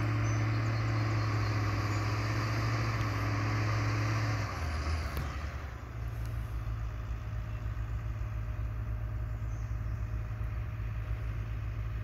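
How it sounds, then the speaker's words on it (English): A skidder spins out in deep mud, its engine droning steadily at a distance, with the tone dropping and shifting partway through as the wheels churn. "he's with the skidder down there. And he is spinning out."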